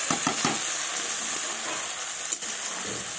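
A spice paste sizzles steadily in a pan with peas, tomato and cauliflower for a vegetarian ghonto, giving a constant broadband hiss with a few stirring scrapes near the start and one sharp clink late on. No one speaks.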